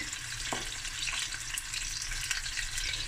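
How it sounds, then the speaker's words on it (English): Snoek fish frying in a pan, cooked a couple of minutes per side, gives a steady, close crackling sizzle that runs evenly throughout, with a faint clink near the start. "I'm going to fry this for a couple of minutes on each side."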